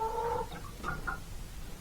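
Young Plymouth Rock chickens in a coop cluck softly, with a couple of short tonal calls early on and two more about midway, over a low, steady background.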